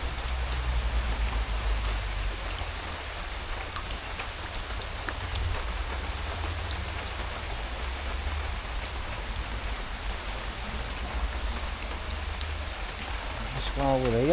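Steady rain falls across a garden during a hot summer with a hosepipe ban, a constant broadband hiss with low rumble running throughout, fairly loud and continuous with no talking.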